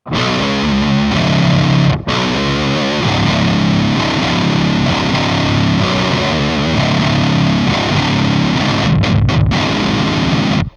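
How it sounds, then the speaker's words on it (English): A heavily distorted electric guitar riff through a Nano Cortex octaver set one octave down, adding a deep layer, thick and loud, with brief gaps between phrases. "So that is 1 sick octaver, right?"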